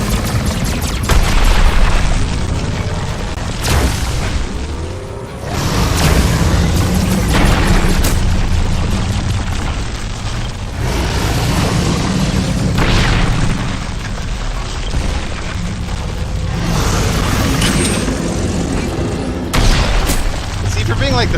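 A plasma rifle fires again and again in the VR shooter Farpoint during a fight with a huge spider. Loud booming bursts and crackling blasts run the whole way through, with someone talking over the gunfire.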